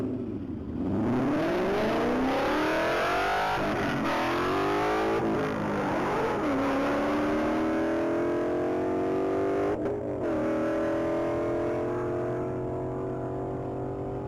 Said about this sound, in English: that 2011 Ford Mustang has gone to the track